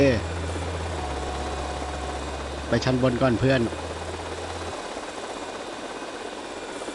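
Steady droning engine of an aircraft in the game GTA Vice City, a constant mid-level hum that runs for most of the stretch and then cuts off, with someone speaking briefly over it.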